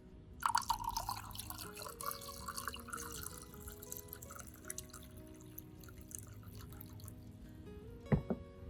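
Orchid base lowered into a water-based treatment solution, giving soft splashes and trickling drips near the start, then quiet gentle liquid movement and a small clink near the end.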